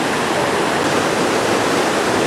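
A mountain brook rushes along beside the Falling Waters Trail on Franconia Ridge, a steady, loud wash of flowing water with no voices.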